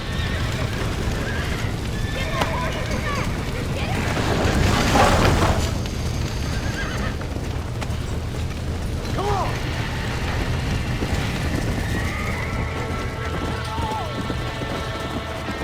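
Horses neigh and whinny in the GunSlinger's Odyssey video game, set against a dense bed of hoof clip-clop and mechanical clatter, with voices talking over it.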